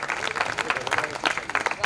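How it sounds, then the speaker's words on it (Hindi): Audience applause at a poetry gathering (kavi sammelan), a dense patter of many hands clapping fairly close, with voices and cheers mixed in throughout. "एक बार इनके लिए जोरदार तालियां बजाइए"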